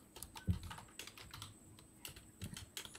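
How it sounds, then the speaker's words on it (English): Rapid, irregular clicks of someone typing on a computer keyboard, moderately close, with a couple of heavier key thumps and no talking. "I hear somebody typing"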